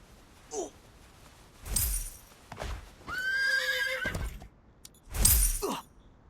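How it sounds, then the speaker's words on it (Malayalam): In the video game Free Fire, a horse whinnies several times between bursts of clip-clop hoofbeats as it gallops, loud and close with short gaps of quiet. "കുതിരയൊക്കെ എടുത്ത് അങ്ങോട്ട് പോകും."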